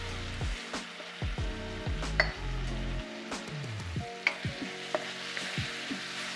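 Chicken balti ingredients frying in a pan, a soft sizzle with intermittent stirring clinks and scrapes against the pan, close by under low background music.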